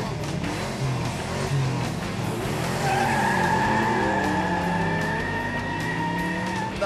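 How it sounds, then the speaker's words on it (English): A car skids and slides through repeated handbrake turns, tires squealing in long wavering sweeps over a steady engine roar, loud and continuous for several seconds with no talk. "Skid, handbrake, another handbrake, slide all the way around, up forward, skid, around, back around one more time."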